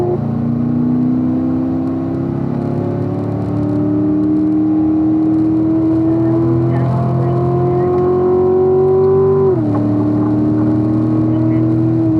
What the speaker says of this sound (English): Use our throttle here to get that car in.